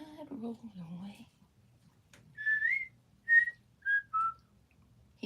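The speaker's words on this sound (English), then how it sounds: "What's Mom whistling?" A person whistles several short, clear tuneful notes in a greenhouse, heard after a few moments of speech and separated by brief pauses.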